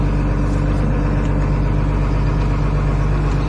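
A Volvo 290 excavator engine runs steadily at revs while the machine does not move, giving a loud, constant low-pitched diesel drone with no change in pitch.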